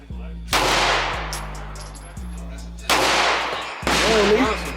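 Gunshots at an outdoor gun range: three loud, sharp reports spaced a few seconds apart, each trailing into a long echoing decay, with low background rumble between them.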